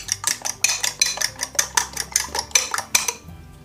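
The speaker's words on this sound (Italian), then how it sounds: "Mischia tutto, è più bello, e poi butta sul fornello." A frittata mixture with pesto is whisked and stirred in a pan on the stove, giving a steady run of close, rhythmic clinks and scrapes of utensil against metal, repeating about every half second with no talking.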